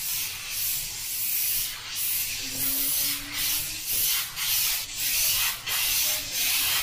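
A spray gun applies paint onto paper with light trigger touches, making short, soft hissing bursts repeated in a fairly even rhythm, close up and alone without talk.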